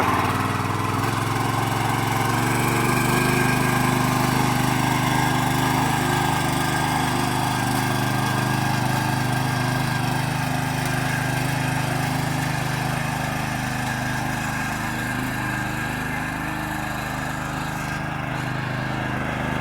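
Tractor engine running in a field, a continuous steady mid-pitched drone with vibration, close and loud, unchanging for the whole stretch.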